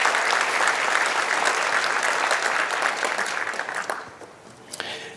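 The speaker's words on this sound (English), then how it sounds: "So can we give a big applause to all our sponsors," Applause from a luncheon audience at a hospital celebration event, a dense, steady patter of many hands clapping that holds strong for about four seconds, then thins out and fades near the end.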